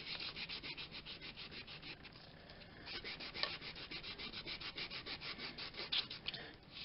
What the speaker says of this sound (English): You can get special sanding blocks to do this